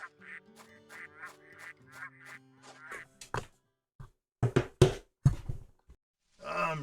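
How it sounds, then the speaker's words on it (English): Cartoonish duck quacks from the video game Baten Kaitos, a run of short nasal calls in the first few seconds, followed by louder clipped game sound bursts with a voice near the end. "Oh, these fucking ducks."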